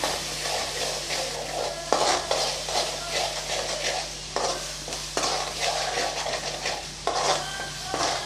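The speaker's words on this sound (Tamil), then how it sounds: "ஒரு கால் ஸ்பூன் மஞ்சத்தூள் சேர்த்துக்கலாம் கொஞ்சம் பெருங்காயத்தூள் நல்லா வதக்கி விட்டுறலாம்" Turmeric and asafoetida being sautéed in a pan for tomato pickle, a continuous close sizzle with repeated scraping strokes of a spoon against the pan, and a faint low hum beneath.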